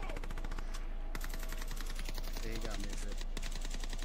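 Rapid automatic gunfire crackles through a firearms training drill, dense bursts overlapping with shouted commands from people on the range.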